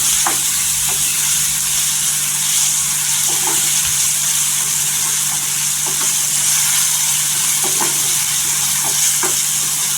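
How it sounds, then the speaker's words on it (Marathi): Coriander leaves sizzle and fry in hot oil as part of a tempering for a Maharashtrian brinjal curry, a loud steady crackle with occasional stirring clinks and no voices. "फोरणीमध्ये कोथिंबीर टाकलेली छान असं तेलावर यांना फ्राय करून घ्यायचं"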